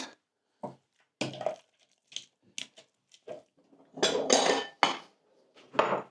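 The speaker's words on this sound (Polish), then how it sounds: "Energicznie mieszamy." Clattering metal-on-pot scraping in quick irregular bursts as eggs are vigorously stirred in a hot pot for scrambled eggs, with brief pauses between strokes.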